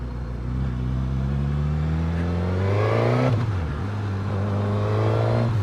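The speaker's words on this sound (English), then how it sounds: "Once you get the revs up a bit, that exhaust comes alive." A Suzuki GSX-S1000 motorcycle engine idles and then revs up, its exhaust note rising in pitch to a peak before dropping back to a steady idle, loud and close.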